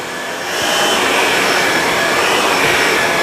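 A Shark Lift-Away Zero-M vacuum cleaner runs loud and close, its motor ramping up within the first half-second into a steady, high-pitched whirring roar.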